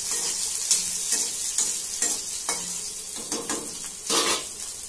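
Chopped onion frying with cumin seeds in a pan for instant-style Maggi noodles, with a steady bright sizzle and several light stirring scrapes and clinks of a spoon against the pan, close and without talk.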